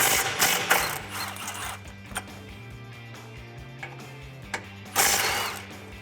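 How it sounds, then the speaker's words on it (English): Ratcheting socket wrench with an extension and 13mm socket loosening exhaust hanger bolts above a rear sway bar, during a Borla Stinger S-Type exhaust install: bursts of quick mechanical clicking near and fairly loud, with pauses between. "I'm gonna grab an extension and a 13mm socket"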